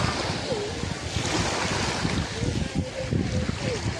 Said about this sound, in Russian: и волны массируют ножки